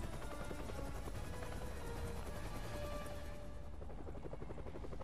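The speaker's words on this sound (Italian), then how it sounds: "Rubano un elicottero." A stolen helicopter in Marvel's Spider-Man on PS4 drones continuously with a loud, dense rotor chop, accompanied by scattered game gunfire and action sounds.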